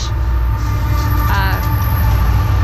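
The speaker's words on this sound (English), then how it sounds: "oh look, the train." A train rumbles past close by near a rock climbing crag, a loud steady roar of rail cars with low rumble and rattling that fills the whole clip.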